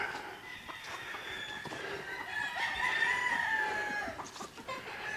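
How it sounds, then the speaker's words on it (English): Hens cluck nearby in a ranch pen while a rooster crows in a long, rising call through the middle of the clip, over a low rustling background. "And he's got some of the hens in here."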